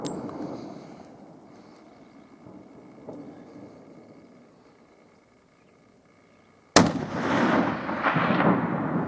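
A single sharp rifle shot rings out during a black bear hunt in Utah, loud and close, followed by a rolling echo. It comes after several seconds of quiet outdoor ambience.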